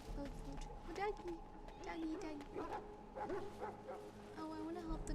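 Repeated whimpering yips and barks from a dog in the role-playing game Dragon Age: Origins, coming in several short calls across the stretch over a quiet, droning game soundtrack.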